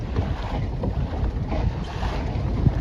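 A Mirror 16 sailing dinghy moves through open water around the Isle of May, with steady wind rush and water swishing along the hull. The noise is continuous and close, and no one speaks.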